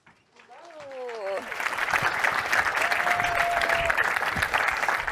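An audience at an SXSW 2022 climate panel breaks into applause that swells quickly after a brief voice at the start and stays as a dense, steady clapping.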